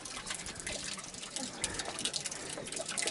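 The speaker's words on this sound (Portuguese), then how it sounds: "Aqui é uma fonte, a água vem por baixo das pedras," Spring water at an Inca stone fountain trickles out from under the stones and splashes into a carved rock collecting basin, a continuous bright babbling and dripping heard close up with no voices.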